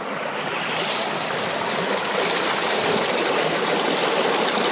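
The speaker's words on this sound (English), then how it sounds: "You can quite see the water flowing there." Steady rushing and splashing of river water pouring through a gold prospecting sluice at Wanlockhead and Leadhills in Scotland, a continuous close wash with no voices.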